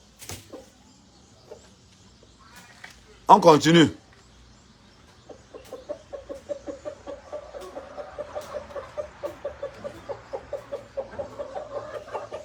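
Chickens cluck in a steady, rapid series at moderate distance, following a brief burst of speech and a few scattered knocks.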